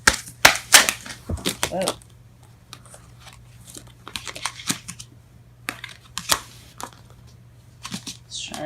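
Tarot cards burst and scatter during a shuffle, a quick flurry of sharp slaps and flutters in the first two seconds, then a few scattered card taps; a voice briefly exclaims.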